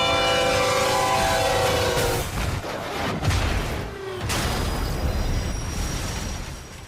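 A million-pound freight train passes a crossing: a loud, sustained horn blast gives way to a heavy rumbling, clattering roar of the cars rolling past close by.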